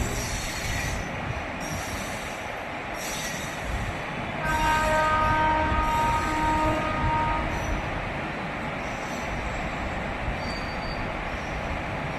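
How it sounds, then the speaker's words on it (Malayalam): A MEMU train rolls past on the adjacent track near Baiyappanahalli, its rumble and wheel noise loud and steady, swelling midway with a thin metallic squeal before easing off. "ദാ കടന്നു പോയിക്കൊണ്ടിരിക്കുന്നത് മാരികുപ്പത്തു നിന്നും കെ എസ് ആർ ബാംഗ്ലൂരിലോട്ട് പോകുന്ന ഒരു മെമു ട്രെയിനാണ്"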